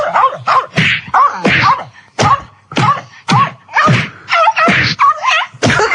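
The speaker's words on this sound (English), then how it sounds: "That's someone beating up a dog." A dog sound effect played on a radio show gives a rapid series of sharp yelps and thuds, about a dozen loud bursts in quick, uneven rhythm, each separated by brief silence.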